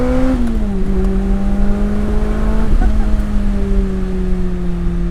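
A Lotus Elise engine hums at steady revs on the move, its tone drifting slightly and dipping once midway, a continuous loud drone heard from inside the car.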